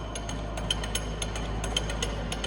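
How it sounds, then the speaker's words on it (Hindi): The loose jaws of a Stanko 1M636 heavy-duty lathe chuck rattle in an irregular, rapid clatter of metallic ticks over the steady hum of the running machine. "जो ये साउंड आ रहा है ये जॉस का है"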